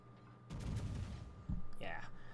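Naval guns of the USS Massachusetts battleship fire shells in World of Warships with a pair of deep booming blasts, the second landing about a second after the first.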